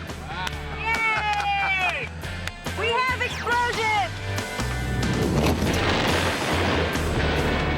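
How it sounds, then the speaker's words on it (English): A staged explosion in a porta-potty drive-shaft test rings out as a loud, sustained broadband roar and crackle over the second half, after excited voices and cheering up close. "We have explosion!"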